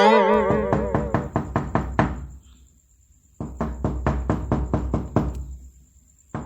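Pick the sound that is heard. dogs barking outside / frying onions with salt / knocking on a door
knocking on a door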